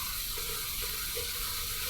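Tap water runs steadily into a sink during a shave, a soft continuous wash with faint splashy texture that stays low and even throughout.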